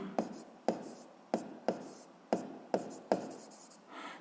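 Pen strokes on paper while writing out a physics problem, about seven short scratchy taps in an even rhythm, close and fairly quiet, with no talking.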